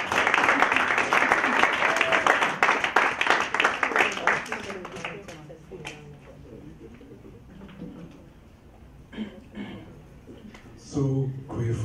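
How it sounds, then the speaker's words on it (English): An audience at a 2015 Mandela Washington Fellows event applauds its founder, a thick burst of clapping for about five seconds that thins out and fades. Scattered knocks and a voice follow. "let's give a hand of applause to our founder"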